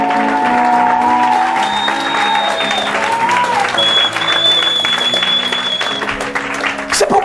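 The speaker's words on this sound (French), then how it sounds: "Est-ce qu'on peut acclamer le Seigneur?" A church congregation applauds and cheers to acclaim the Lord during a French-language sermon, steady loud clapping with crowd voices throughout, over sustained organ or keyboard tones.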